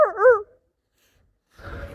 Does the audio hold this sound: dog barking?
yes